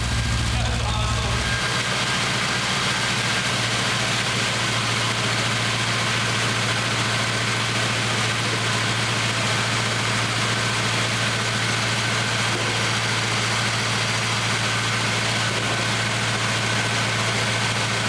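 A 360 Magnum V8 swapped into a Studebaker pickup runs at a steady idle on its first start, a low, even rumble that begins after a brief start-up and continues unbroken and close by.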